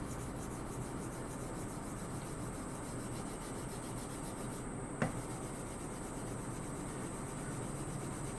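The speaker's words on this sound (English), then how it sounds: "when I go to rub the compound on, it'll go on much more smoothly and much more evenly, like this" Sharpening compound is rubbed by hand onto a wooden kitchen paddle strop, making a steady, continuous scrubbing hiss throughout, with a single small click midway.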